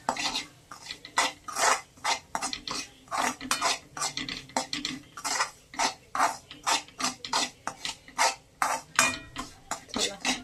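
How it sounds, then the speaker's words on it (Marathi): Semolina (rava) roasting in ghee over a low flame for sheera, stirred steadily with a spoon that scrapes and clinks against the pan in a quick, regular rhythm, close and moderately loud with no talking. "चला रवा छान भाजतोय"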